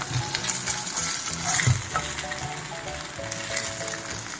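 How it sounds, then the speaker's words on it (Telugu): Ginger garlic paste and garam masala sizzle in a pan for a fish curry, a dense steady crackle near the microphone with repeated scraping strokes as the spoon stirs the mixture. "ఈ మసాలా కూడా పచ్చివాసన పోయేదాకా వేయించుకోవాలి"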